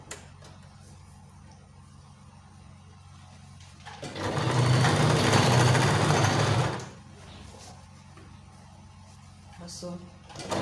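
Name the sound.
sewing machine stitching fabric strip onto camisole top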